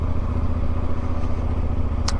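Motorcycle ridden by a child on a rural road in Africa, its engine droning steadily and loudly at close range with a rough, throbbing mid-low rumble and no talk over it.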